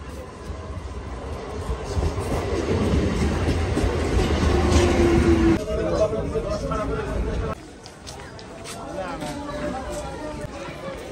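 A Ranaghat local train rumbles and clatters past with a loud, steady roar that shifts and then drops away, with voices murmuring in the background.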